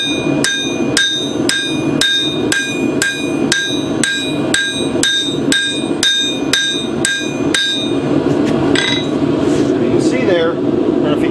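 A hammer repeatedly strikes a knife blade, forging its bevels in about fourteen evenly spaced ringing metallic blows, loud and near. A few irregular taps and clinks follow at the end.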